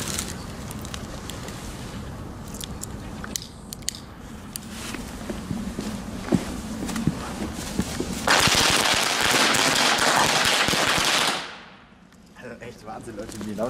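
Weco firecrackers with grey fuses burst outdoors in a rapid, crackling series of sharp pops that builds into a dense, loud barrage before cutting off, leaving quiet ambience with faint birds.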